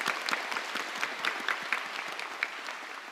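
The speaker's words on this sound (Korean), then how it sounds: "주님께 영광의 박수 올려드리겠습니다" A congregation at an autumn dawn revival service claps in praise, a rhythmic applause with distinct sharp claps standing out over the crowd's steady patter, moderately loud and sustained throughout.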